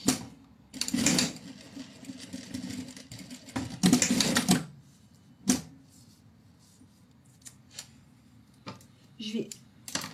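A sewing machine stitches folded pleats into a fabric pouch in short bursts of rapid needle clatter, broken by pauses and a few quiet clicks, with faint speech.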